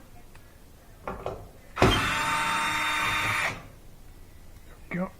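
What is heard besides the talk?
power driver with 1/4 inch socket removing dryer screws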